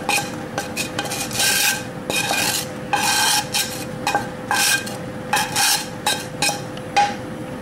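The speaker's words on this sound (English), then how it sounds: "Give that cheese sauce a last stir and scrape in all the bacon." A spoon stirs and scrapes a pan of cheese sauce for macaroni cheese, with bacon scraped in. Repeated close rasping, scraping strokes come in an uneven rhythm, with a faint sizzle underneath and no talking.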